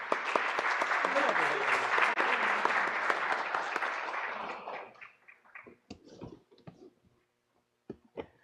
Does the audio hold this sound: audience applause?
yes